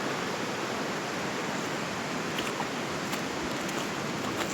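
A river stream rushes in a dense, steady broadband roar of flowing water, constant and fairly loud throughout, with no voices.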